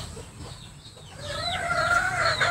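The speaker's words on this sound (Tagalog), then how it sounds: "Ito, purong labuyo." A wild red junglefowl rooster caught in the mountains calls nearby: a quiet stretch gives way to a rising, drawn-out crowing phrase that grows louder toward the end.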